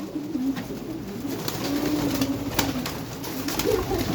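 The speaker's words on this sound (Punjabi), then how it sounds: "ਪੱਕੀਆਂ ਠੱਲਾਂ ਦੇ ਕਬੂਤਰ ਆ ਬਾਈ" Pigeons kept for hobby flying coo softly and repeatedly in low, rolling calls close by, over a steady background hum, with no talking.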